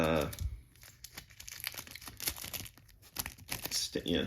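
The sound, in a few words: scissors snipping plastic wrap on a trading card box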